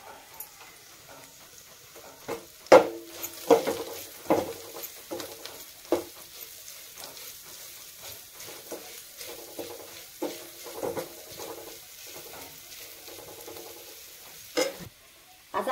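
Fresh green pigeon peas tip into a hot pan for a village-style curry, bringing a soft sizzle and irregular scraping and clatter of stirring, with a few louder knocks of the spoon against the pan and no talking.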